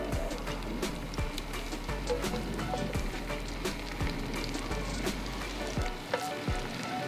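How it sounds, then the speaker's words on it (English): Steaks and scallops sizzle steadily in hot avocado oil in a pan, a loud, continuous frying hiss with crackling pops all the way through. "Sizzle sound, check."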